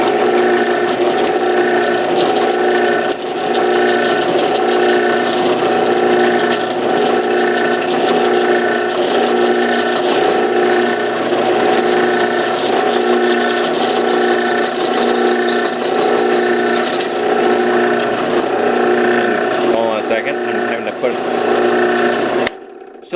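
Manual hand drill boring into wood on a workbench shelf build, making a loud, continuous ratcheting and gear-driven clatter with a steady cranking rhythm that runs throughout and stops abruptly near the end.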